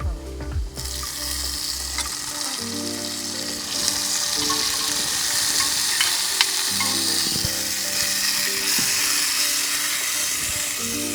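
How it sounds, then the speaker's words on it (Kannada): Marinated mushrooms dropped into a hot pan for Coorg-style kummu curry, sizzling and crackling loudly and continuously with a few sharp pops and stirring scrapes, close up and with no talk. "ಮ್ಯಾರಿನೇಟ್ ಮಾಡ್ಕೊಂಡಿರುವಂತಹ ಮಶ್ರೂಮನ್ನು ಹಾಕ್ತಾ ಇದ್ದೀವಿ"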